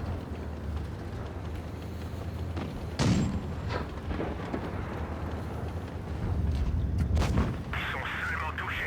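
A tank destroyer cannon fires in the WOT Blitz tank game, a heavy booming shot with a rumbling tail, and a second blast comes a few seconds later amid engine and battle noise, with a voice talking over the game.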